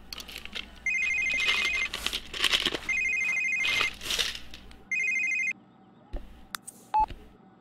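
A phone rings inside a PC racing game, Need for Speed. Four clear electronic ring bursts repeat at an even pace, followed by a couple of short beeps and clicks.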